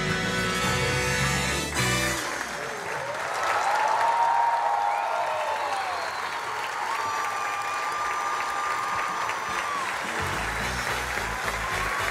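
Theater audience applauding at the Casados con Hijos debut at the Gran Rex, sustained dense clapping with crowd noise and cheering, loud and continuous for several seconds before it fades under music.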